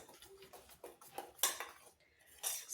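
A spoon clinks and scrapes against a dish as food is mixed with salt, in a few quiet, uneven bursts close by.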